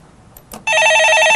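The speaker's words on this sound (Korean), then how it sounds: "네, 전화 받아보겠습니다." A telephone rings once loudly and steadily after a short burst of faint background noise, the bright electronic tone close and continuous to the end.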